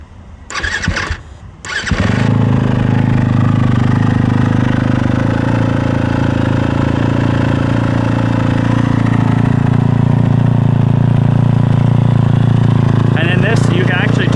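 A 2024 Yamaha YZ250FX dirt bike on a cold day, cranking in a couple of short bursts before catching, then settling into a loud, steady idle close by with little variation.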